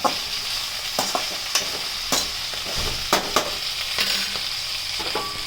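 Nalleru (veld grape) stems and peanuts fry in a pan with a steady, even sizzle, broken by sharp clinks and scrapes of a spoon stirring every second or so; no talking.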